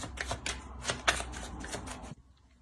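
Oracle cards being shuffled for a predictive draw, a close run of quick riffling bursts lasting about two seconds, then stopping abruptly into quiet.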